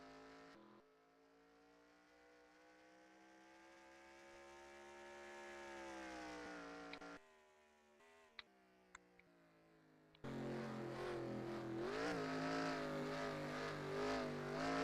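Stock car engine in the NASCAR Racing 2003 sim at New Hampshire, droning with a steady harmonic whine that rises, then drops away as the driver downshifts to third. A few sharp clicks follow before the engine roars back loud and rough with revving.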